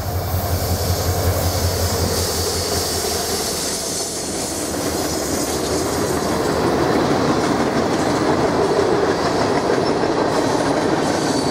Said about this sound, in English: A CN GP40-2W and a Grand Trunk Western GP9R lead a local back to Fond du Lac in